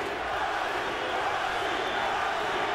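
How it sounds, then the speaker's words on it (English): An English boxing crowd chants in a dense, steady roar of massed voices, loud and continuous throughout without clear individual speech. "English crowd chanting Nazi,"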